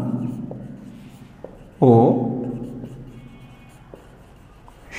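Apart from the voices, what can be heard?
teacher writing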